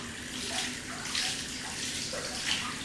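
Running water rinses a hair-loss treatment out of short hair, a constant hissing, splashing flow like a faucet or shower, heard close and continuous.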